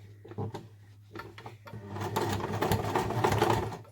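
A sewing machine backstitches the seam of a fabric beauty pouch, first a few short stitch bursts, then a steady close run of stitching with a constant hum underneath.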